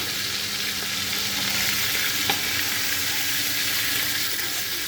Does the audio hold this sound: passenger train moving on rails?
no